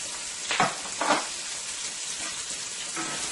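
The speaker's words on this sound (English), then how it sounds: "to my oil, I am going to add some onions and some garlic." Onions and garlic hitting hot oil for a Guyanese eggplant stew, giving a loud, continuous hiss with a couple of brief sharper crackles early on, close and unaccompanied by talk.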